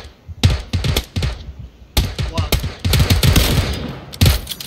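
Rapid bursts of gunfire from the video game PUBG (Battlegrounds), loud and close, firing in quick clusters with short gaps, continuing in a dense rattling stream for the second half.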